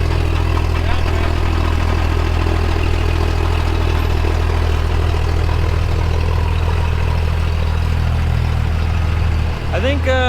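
A huge off-road wrecker truck rumbles with a loud, steady low engine idle close by, continuous throughout, and a short mechanical whine and shift near the end.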